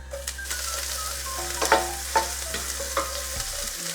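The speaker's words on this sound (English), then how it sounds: "Next goes in the chopped up ginger and garlic." Chopped ginger and garlic drop into hot homemade ghee with cumin seeds for a dal tadka, sizzling steadily up close with several sharp stirring clinks from a utensil against the pan.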